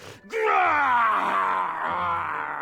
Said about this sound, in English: It called out in pain as I heard its body crash to the floor.